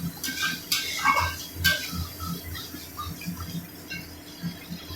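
Prawn malai curry with coconut milk is stirred in a pan: soft, close metal scrapes and light clinks of a utensil against the pan come in irregular bursts over a quiet background, with no talking.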